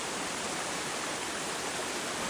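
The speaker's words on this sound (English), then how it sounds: "Another waterfall." Forest waterfall pouring in a steady, dense, unbroken rush of white water that fills the whole short stretch evenly, with no voices or other sounds standing out.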